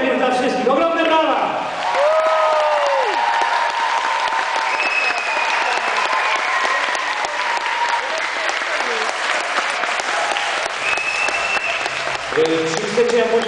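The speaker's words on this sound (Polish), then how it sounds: "Ogromne brawa!" Loud audience applause and cheering fill the hall at a radio music battle final, continuous and dense throughout, with an announcer's voice and some whoops riding over the crowd.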